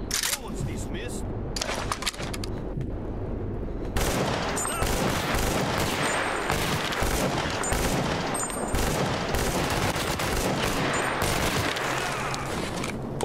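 Rapid automatic fire from an A9 rifle in the shooter game Stalker Clear Sky, with dense bursts of gunshots running almost without pause and loud throughout, and a short quieter lull near the start.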